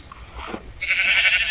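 A Minecraft sheep gives a short, faint bleat, followed by a louder, bright buzzing game sound that holds to the end.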